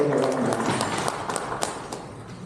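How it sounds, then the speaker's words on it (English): Applause from a lecture audience for the event organizers, a brief burst of clapping that thins and fades after a couple of seconds, with a voice briefly over the start. "let's give a round of applause for the organizers"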